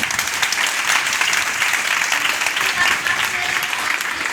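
Loud, steady applause from an audience in a hall fills the whole stretch, cheering a man being honoured at a staff achievement event, with a few voices audible beneath the clapping.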